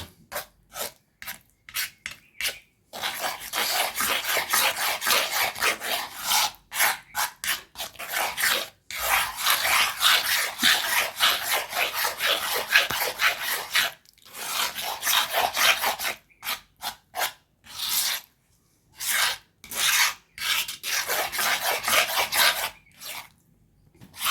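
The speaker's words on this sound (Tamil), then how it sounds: "நல்லா பேஸ்ட்டு பதத்துக்கு இருக்கணும் அப்படி இந்த மாதிரி நல்லா மிக்ஸ் பண்ணி விட்டுக்கோங்க" Papaya leaf hair dye paste is stirred in a bowl, giving bursts of gritty scraping and rubbing with short pauses between strokes, close and fairly loud, with no talking.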